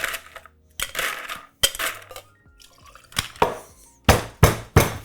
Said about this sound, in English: Put some ice in our tin.